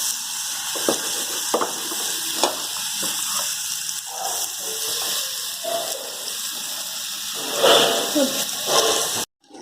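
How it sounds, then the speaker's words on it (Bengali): Gravy frying in mustard oil on a nonstick tawa, a steady broadband sizzle running throughout with scattered pops and spatters, close and fairly loud, briefly swelling near the end before cutting off. "এবার গ্রেভিটা আমি ভালো মতো ভেজে নেব, তেল না ছাড়া পর্যন্ত।"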